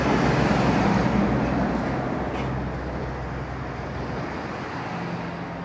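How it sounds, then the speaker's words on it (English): Steady traffic roar on a city street near a container terminal, with heavy truck traffic passing. It forms a continuous broadband rumble that eases slightly partway through, with no talking over it. "There's a lot of truck traffic on the street"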